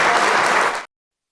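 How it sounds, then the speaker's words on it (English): Brief burst of audience applause for milestone celebrants at an anniversary event, dense clapping that cuts off abruptly after under a second. "Let's give a round of applause to all of our milestone celebrants."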